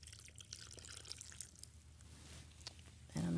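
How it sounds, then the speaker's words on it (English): Water trickles and drips into seedling soil in a plastic jug, faint and close, with soft scattered splashes and a louder thump at the very end. "So all I'm going to do is just add a little water"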